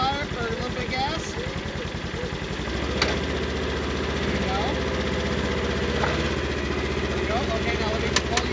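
A Polaris UTV engine idles and revs while a winch drags it out of deep mud, a steady mid-pitched drone with a rough pulsing start, sharp clanks near the end and voices talking over it.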